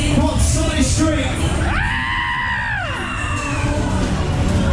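On a David Taylor waltzer at the Kendal Fireworks fair, one loud rising-and-falling scream lasting about a second rings out over constant roaring ride noise and crowd hubbub.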